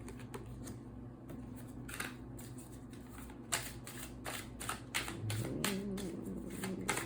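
Tarot cards shuffled and drawn during a reading, a run of soft flicking and riffling snaps with a few sharper card slaps, close and fairly quiet, with no talking.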